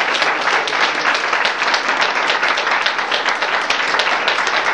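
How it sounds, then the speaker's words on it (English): Lecture audience applauding steadily after a reading, a dense, even wash of many hands clapping close by, sustained at full strength throughout with no voices rising above it. "So let's give them another round of applause for"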